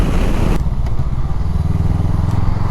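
A Honda Rebel motorcycle engine while riding, a close steady drone with rumbling low end and wind buffeting, no voices over it.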